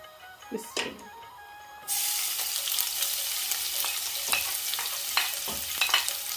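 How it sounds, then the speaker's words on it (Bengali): Garlic drops into hot oil with a sudden loud sizzle that bursts in and then holds as a steady crackling hiss, broken by a few sharp utensil scrapes, after some quiet clatter beforehand. "তেলটা গরম হওয়ার পরে রসুন দিলাই"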